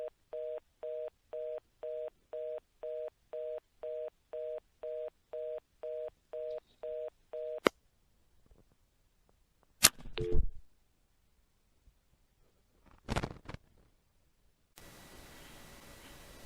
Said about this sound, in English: Here I am dialing the operator